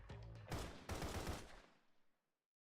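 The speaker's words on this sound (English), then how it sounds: "A series of gunshots pierced the air." A rapid burst of video game gunfire, two loud volleys of shots close together, trailing off into a fading echo.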